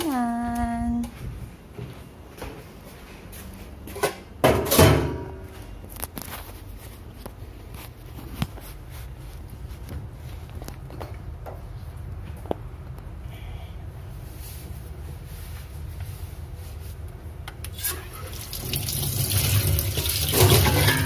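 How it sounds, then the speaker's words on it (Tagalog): Tap water runs steadily into a sink while dogs' food bowls are washed, with clatters of bowls, a louder splashing surge near the start and heavier flow at the end, all close by. "maghuhugas na tayo ng kanilang mga pinagkainan"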